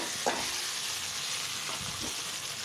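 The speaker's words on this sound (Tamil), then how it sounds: "வெங்காயம், தக்காளி சேர்த்துக்குருவோம். அதையும் போட்டு நல்லா வதங்கணும்" Onion and tomato sautéing in a pan with fenugreek and cumin, a steady moderate sizzle with a couple of soft stirring scrapes.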